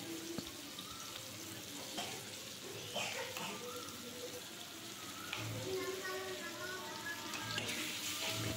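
Salt, turmeric, chili powder, ginger-cumin paste and garlic paste fry with onions in a pan for a thin chicken curry, making a quiet, continuous crackling sizzle with scattered clinks of stirring, no voices.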